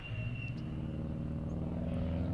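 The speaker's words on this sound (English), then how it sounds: "that car makes the most power with lower in the revs than you would anticipate" A rally car engine idling at low revs, a deep steady throaty rumble with a slight uneven pulse, fairly close and continuous.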